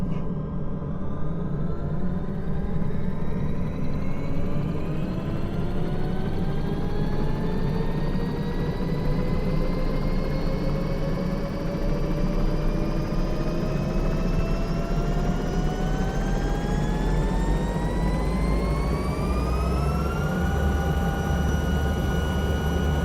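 Helicopter rotor spinning up in Microsoft Flight Simulator 2024, a steady loud turbine whine and rotor rumble whose pitch climbs gradually as the blades gain speed, heard alone without talk.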